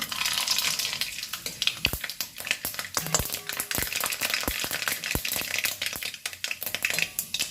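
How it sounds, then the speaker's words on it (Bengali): Mustard seeds tempering in hot oil in a kitchen pan: a steady bright sizzle with scattered sharp pops and crackles, loud and close, no talking. "এবার এই গরম তেলের মধ্যে আমি একটু সর্ষে ফোড়ন দিয়ে দেব।"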